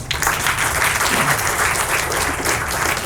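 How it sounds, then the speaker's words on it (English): Sustained audience applause following a speaker's closing remarks at a conference event, loud and even from start to finish with no spoken voice above it. "Everyone, full round of applause again, please."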